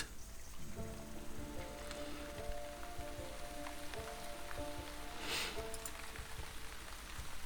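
Steady rain ambience in a woodland video game, an even hiss of falling drops with scattered patters and faint tonal background sounds, continuous and moderately quiet with no talking.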